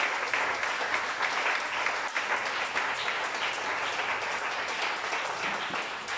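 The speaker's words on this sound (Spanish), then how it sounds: "Un aplauso para el Señor." A church congregation applauding the Lord, sustained broadband clapping from many hands, moderately distant and even, continuing for over six seconds with little talk.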